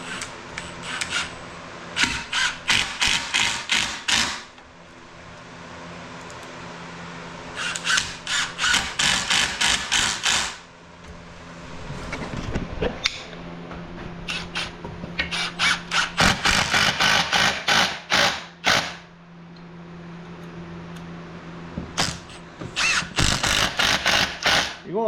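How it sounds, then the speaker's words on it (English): Cordless drill driving screws into an oak Adirondack chair at a low clutch setting: repeated bursts of whirring and ratcheting, each run a few seconds long, with brief pauses between screws. "You can run it, this drill's got enough, you can run it all the way through there."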